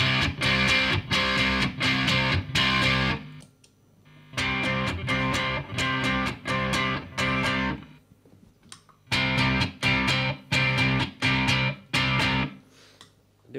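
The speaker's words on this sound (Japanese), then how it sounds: "これこの3つが全部ディストーションで 歪み系ね" Electric guitar runs through overdrive-type distortion pedals, playing loud, heavily saturated chord strums in three bursts of repeated rhythmic hits separated by short silent gaps.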